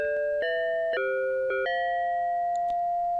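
FM chime tones from a DIY Dirtywave M8 synthesizer step through a short bell-like melody of four or five notes, the last one held and ringing out cleanly alone.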